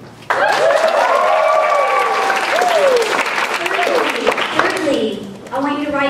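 A church congregation breaks into applause while shouts and voices ring over it, the clapping thinning out toward the end before voices return.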